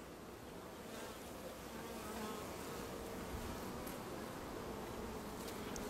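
Dense, steady hum of honey bees buzzing inside a beehive, a soft continuous drone with no breaks and no speech.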